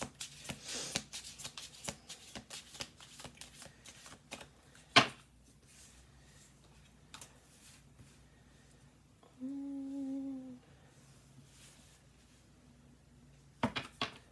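Playing cards shuffled and dealt onto a table, quick riffling bursts and sharp slaps of cards set down, with a short hum in the middle, quiet and close in an indoor room.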